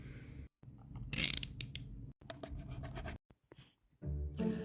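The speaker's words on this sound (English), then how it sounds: "after a little bit of prying, as you can see, this thing was fastened down pretty hard" Godzilla x Kong toy being pried out of its packaging, with close crinkling, scraping and sharp plastic snaps in short irregular bursts separated by brief silences.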